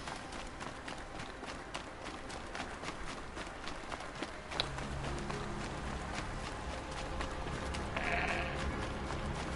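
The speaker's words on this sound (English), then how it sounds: "Did I hear a sheep?" Faint sheep bleats in a video game, Horizon Zero Dawn: The Frozen Wilds, sound amid a busy background of tapping and rustling, with a clearer bleat near the end.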